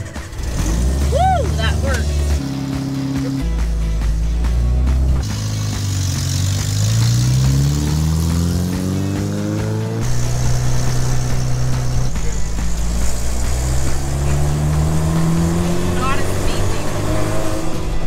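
A manual-transmission off-road rig's engine revving and pulling away, the pitch rising and falling through gears, loud and close with people talking over it.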